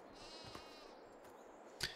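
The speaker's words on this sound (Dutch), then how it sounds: "wat ik jullie wil laten zien, is onze nieuwe schapen. Kijk, daar staan ze al." A sheep in Farming Simulator 22 bleats faintly once near the start of a short, quiet moment, with a soft click near the end.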